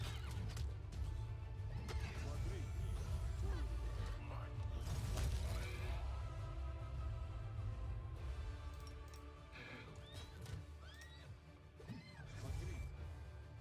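Horses neighing and whinnying amid clashing, crashing impacts and mechanical clatter during a video game fight, busy and loud throughout, with a voice talking now and then.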